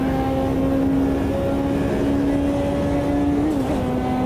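A GT0 race car with turbos in Automobilista 2 drones loudly at steady high revs, a sustained engine tone with a brief pitch wobble near the end and no talk over it.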